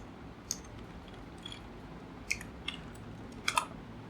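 A few sparse keystrokes clack on a computer keyboard, sharp isolated clicks spaced irregularly over a quiet room background.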